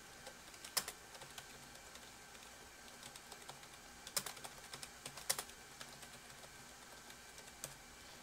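Typing a sudo command into a Linux terminal (Backtrack) on a computer keyboard: soft, irregular clusters of key clicks with a few sharper taps, faint and close, no talking.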